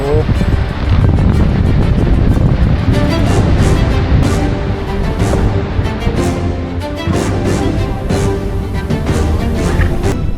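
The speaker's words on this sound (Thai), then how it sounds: "ลมแรง ลมแรง" Loud, constant wind roars and buffets the microphone outdoors at Phu Soi Dao, with voices talking faintly underneath the rumbling gusts.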